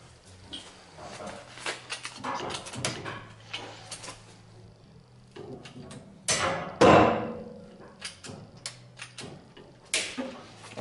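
Body repair on a Peugeot Expert van as a dent in the panel is pulled out: a run of sharp knocks, clanks and metallic taps, with one louder strained pull partway through.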